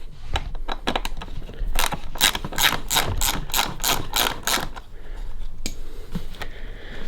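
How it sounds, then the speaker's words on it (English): Bolts on a Ferrari being worked loose and removed with a ratchet, giving a run of about ten quick, evenly spaced metallic clicks at close range, with scattered tool clatter and clanks before and after. "So we've now loosened or removed these bolts at the end and loosened this."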